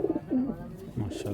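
A pigeon cooing close by, a short burst of soft, throaty low coos, fairly quiet and alone.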